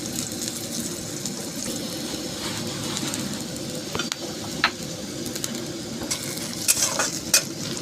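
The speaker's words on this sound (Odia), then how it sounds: "ସୋରିଷ ଫୁଟା ଲାଗିଲା।" Mustard seeds sizzle in hot oil with a steady hiss. Occasional sharp pops and crackles rise out of it, and a utensil clinks now and then, close by with no speech.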